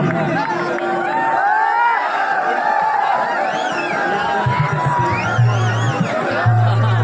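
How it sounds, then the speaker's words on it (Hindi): A crowd at a stage event in Chakia, Uttar Pradesh, cheering and clapping as a superstar singer makes her entrance, with whoops and a steady roar of voices; a loud music beat comes in toward the end. "जोरदार ताली बजाइए"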